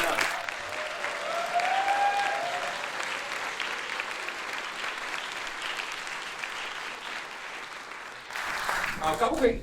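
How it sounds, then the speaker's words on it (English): A concert audience at a community college symphonic and jazz band performance applauds steadily in a dense, sustained wash of clapping, with a brief voice and a renewed surge of clapping near the end. "One big round of applause."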